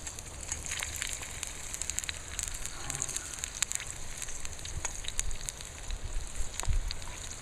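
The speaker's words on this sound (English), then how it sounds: "Alright, you can hear it starting to sizzle." Red beans and rice with alligator sizzle softly in a pan, a faint continuous hiss broken by scattered small pops and crackles.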